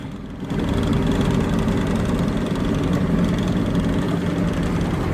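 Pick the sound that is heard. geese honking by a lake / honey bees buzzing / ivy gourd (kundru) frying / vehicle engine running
vehicle engine running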